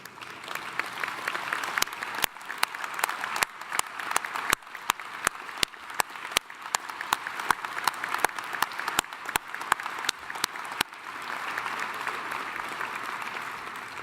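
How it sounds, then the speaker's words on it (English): A large veterans' convention audience at a DAV gathering claps in a steady, full round of applause for service officers standing in the hall, with sharp individual claps popping out over the dense wash throughout. "let us all give you a big round of applause"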